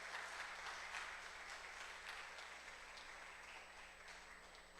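A church congregation applauds to welcome a guest speaker at an anniversary service, dense sustained clapping from many hands that fades slightly over several seconds, heard at a distance without speech.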